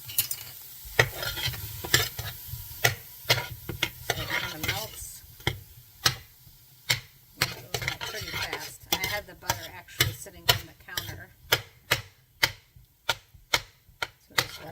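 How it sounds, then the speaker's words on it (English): Mashed potatoes are mixed with real butter, heard as a rhythmic series of soft, wet thuds and scrapes repeating roughly every second, close up and moderately quiet. "And I'm going to start mixing this up."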